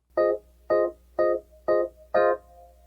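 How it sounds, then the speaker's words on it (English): Five evenly spaced short tonal hits, each with a brief decaying tail, demonstrating a reverb tail effect in music production; clean and isolated, no talk. "The reverb tail is when we do something like this."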